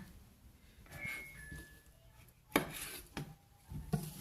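A few sharp knife cuts halving shiitake mushrooms tap against a cutting board, spaced irregularly and fairly quiet, with no talking.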